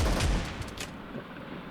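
Shotgun blasts in a video game shooter, two heavy booming shots in quick succession at the start, followed by fainter rattling and crackling game noise with no voices.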